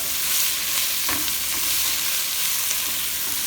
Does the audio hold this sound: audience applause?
no